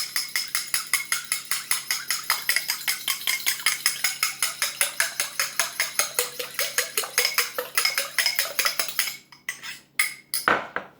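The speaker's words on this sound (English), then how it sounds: "I'm going to beat that up nice and lightly with a fork" A fork beats one egg lightly in a cup, giving a fast, steady run of close, bright clinks and scrapes for several seconds before the strokes break up and stop.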